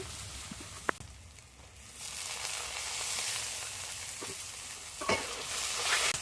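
Chopped tomatoes sizzle and fry steadily in hot mustard oil for a country chicken red curry, a continuous close crackle with a couple of sharp clinks of a utensil against the pan.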